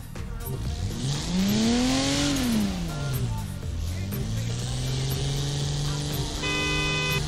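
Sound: car horn in Forza Horizon 4 video game

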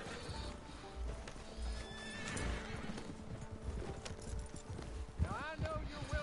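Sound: horse hooves and neigh, video game

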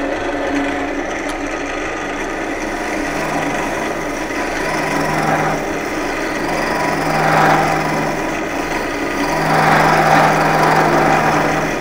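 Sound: hollowing tool cutting wood on a lathe

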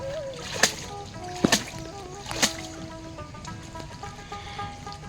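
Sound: washing cut prawns in water, splashing

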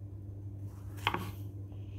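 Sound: chopping strawberries with a knife

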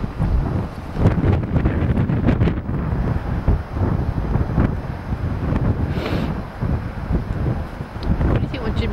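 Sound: strong wind blowing at a lagoon

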